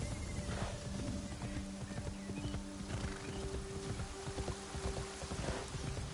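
Horse hooves clip-clopping in AC Shadows, a steady run of soft, close hoof falls over a constant ambient game bed, with occasional faint neighing.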